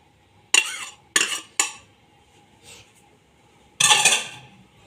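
Chicken being stirred through a yogurt-based shawarma marinade, giving several close, loud bursts of utensil scraping and clinking against a bowl, three quick ones in a row, then a faint one and a longer final stir.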